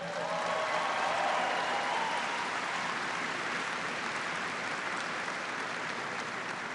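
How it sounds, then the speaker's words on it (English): Troops and civilians at a base in Afghanistan give a big round of applause, a steady, even wash of clapping that sounds somewhat distant and holds unbroken throughout. "Give them a big round of applause"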